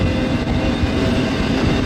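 A freight train, half intermodal cars and the rest junk, rolls past near North Platte with a loud, steady rumble and rail noise that fills the whole stretch.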